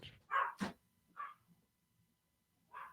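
A few separate short dog barks, fairly faint and spaced apart with quiet gaps between them, and no voices.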